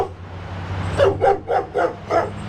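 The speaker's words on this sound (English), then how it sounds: "And that's my junkyard dog." A junkyard dog barks five times in a steady, evenly spaced run at close range, loud and clear over a low background hum.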